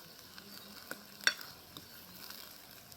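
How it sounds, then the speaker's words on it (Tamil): Brinjal (eggplant) pieces frying in oil in a village kitchen, a quiet, faint sizzle with a few scattered sharp pops and a clink, no voices. "கத்திரிக்காய் வந்து பொரிஞ்சு கொண்டிருக்கு."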